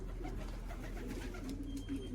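A homing racing pigeon arriving back at its loft coos softly a few times against steady outdoor background noise, with no one speaking.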